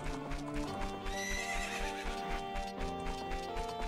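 Horses in The Legend of Zelda: Ocarina of Time neighing over a steady clip-clop of hooves. Game music plays along, and the whole scene is moderately quiet with no talk.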